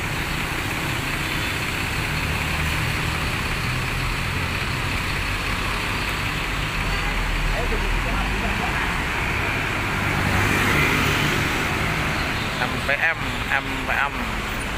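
A bus engine rumbles amid road traffic as the bus arrives. The roar is loud and steady, and it swells toward the end with sharper mechanical noise.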